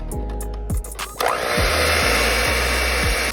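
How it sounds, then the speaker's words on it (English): Chocolate chip cookie batter with vanilla being whisked by an electric mixer, a steady loud motor whir with brief dips and restarts, running alone without talk. "And we're going to keep whisking."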